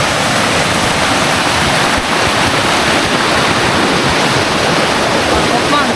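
Powerful rushing river water, a loud, unbroken roar of fast, deep current close by, steady throughout with no pauses.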